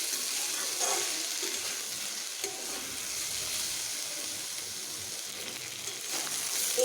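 Radish leaves frying in a pan, a constant close sizzle and crackle with light stirring, a watery hiss running underneath throughout.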